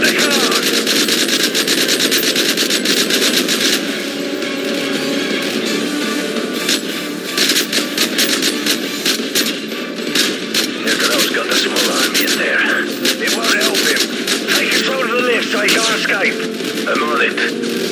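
Dense, continuous gunfire and explosive bursts from Call of Duty Modern Warfare 3 fill the whole stretch, loud and relentless, with voices of in-game characters talking over the battle.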